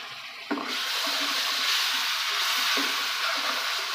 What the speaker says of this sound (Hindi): अब हल्का सा पानी का छींटा लगाएंगे ताकि जो मसाले जले ना।